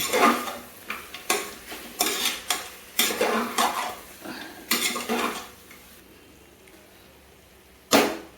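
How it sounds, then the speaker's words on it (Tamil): A spoon stirs curd into mutton in a pot for biryani, giving about a dozen scraping, clattering strokes in an uneven rhythm with faint sizzling beneath, then a pause and one final loud scrape. "தயிர் சேர்த்துட்டு பிரட்டிடும்."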